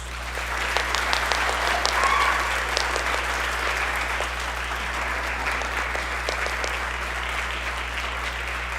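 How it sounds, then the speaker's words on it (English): A concert audience applauds student jazz and orchestra musicians at a school performance, with many hands clapping in a steady, full round that holds for several seconds over a low hum. "Let's give them another round of applause"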